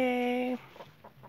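A loud, sustained crowing note cuts off, followed by soft, scattered clucking from chickens.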